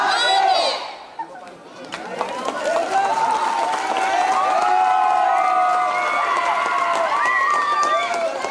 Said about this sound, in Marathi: जोरदार टाळ्या झाल्या पाहिजेत.